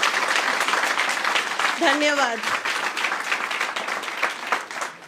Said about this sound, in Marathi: टाळ्यांचा कडकडाट.